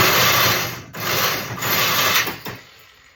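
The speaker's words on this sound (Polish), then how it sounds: "i za pomocą szlifierki" A loud angle grinder whirs and grinds continuously at close range on a chain sprocket of a Chinese engine, its harsh noise briefly dipping twice before trailing off.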